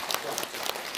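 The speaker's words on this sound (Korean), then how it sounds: "박수 한번 주십시오." Audience applause in a large lecture hall during a talk, a dense, steady wash of many hands clapping through the whole moment, moderately loud with no speech over it.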